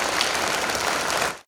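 A television talent-show audience applauds a contestant taking the stage at a grand finale, giving brief, loud, dense clapping in an auditorium that cuts off sharply after about a second and a half.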